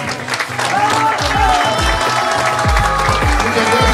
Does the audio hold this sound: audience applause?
yes